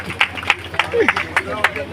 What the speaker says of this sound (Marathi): चला जोरदार टाळ्या वाजवा बाबांसाठी